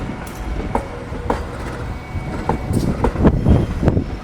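Shunting train pulling five passenger cars past at moderate distance, a low rolling rumble punctuated by rhythmic wheel clicks and knocks that grow somewhat louder toward the end, no voices.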